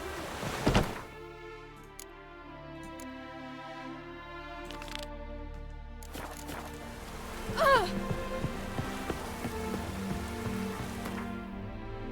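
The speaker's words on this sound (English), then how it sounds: "Hope it rains like this come sowing." Rain pours in The Witcher 3, a steady patter running throughout, broken by a few dull thunks and brief game sounds, with some quiet voices now and then.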